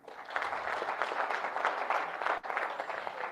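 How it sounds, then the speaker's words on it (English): An audience applauding at an event, a continuous patter of many hands clapping at moderate distance, steady and fairly quiet, with a brief dip near the end. "Kindly clap for them."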